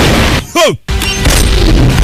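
A loud boom-like blast cuts through dense, noisy background, followed by a brief dropout and continuing rumble; gunfire amid chaotic sound.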